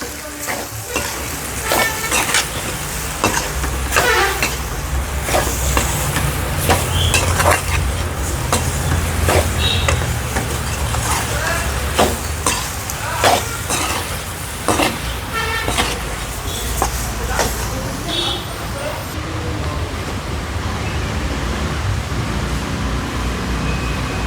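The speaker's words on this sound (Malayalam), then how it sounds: "മുളക് പൊടിയും ഗരം മസാലയും പിന്നെ മല്ലിപ്പൊടിയും മഞ്ഞൾപ്പൊടിയും ഇട്ട് ഒന്നും കൂടെ നന്നായി കരിയാണ്ട് അങ്ങോട്ട് വഴറ്റിയെടുക്കാം" Chilli powder, garam masala, coriander and turmeric sauté in a pan. A steady sizzle runs throughout, and frequent scraping and clinking stirs cut through it up close.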